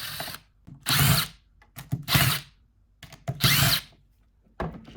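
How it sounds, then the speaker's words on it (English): Power screwdriver backing screws out of the front of an RV travel trailer water pump to reach its pressure switch, heard as several short, close whirring bursts with quiet gaps between them. "we're going to take the screws off the front part of this because there's a little pressure switch in the back"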